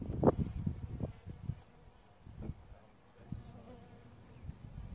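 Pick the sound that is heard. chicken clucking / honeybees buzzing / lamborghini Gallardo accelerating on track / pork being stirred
honeybees buzzing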